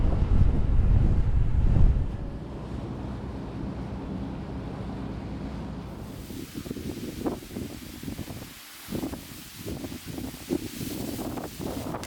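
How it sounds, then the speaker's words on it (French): Strong headwind buffeting a microphone while bikepacking solo across Japan, a loud low roar that dominates the first two seconds, then eases into steadier gusty rumble with brief bursts and dips, no talking. "Un vent de face depuis ce matin là."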